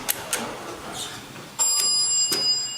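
A bright elevator bell chimes a few times at irregular moments over a low hum, with a clearer ding near the end, in a Dover hydraulic elevator in a public parking garage.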